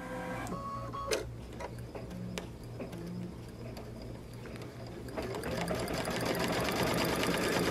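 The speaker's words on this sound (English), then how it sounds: "let's go ahead and sew our last iteration of this" Baby Lock Solaris computerized sewing machine running an edge-to-edge stitching pattern, a steady fast mechanical whir and needle clatter close up that grows louder and busier in the second half, with no talking.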